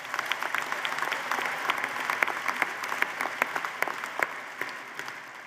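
Applause from a commencement audience at a university graduation, fairly quiet and distant clapping with distinct individual claps sounding out over the crowd throughout.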